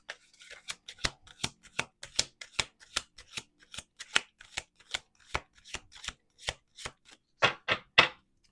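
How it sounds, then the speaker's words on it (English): A Lenormand deck of cards being shuffled by hand, a steady run of crisp riffling slaps in quick succession, close and clear, with a few louder bursts toward the end. "We're going to do 2 more shuffles."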